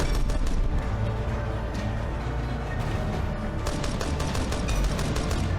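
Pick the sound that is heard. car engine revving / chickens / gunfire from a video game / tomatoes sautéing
gunfire from a video game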